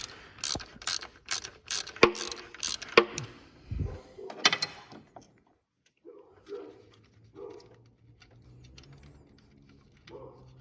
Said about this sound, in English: there's a 10mm bolt. Undo them, pull the coil packs out.